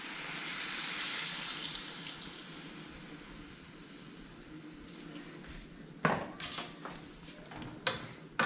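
Chicken broth poured into a pan of chicken cooked with wine, a steady watery splash and sizzle at first, then fading, followed by a few clattering knocks near the end.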